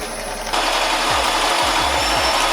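A drill bores holes into cinder block, grinding continuously and loudly at close range, the pitch rising partway through, with a few low thumps as the bit works through the block.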